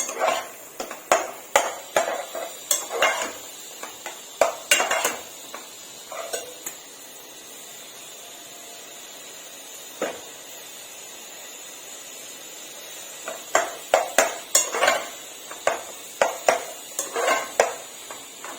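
Tomato pickle with mustard seeds and cumin powder is stirred in a pan, a spoon clinking and scraping against metal in quick bursts, then a quiet stretch before brisk clattering resumes, with no talking.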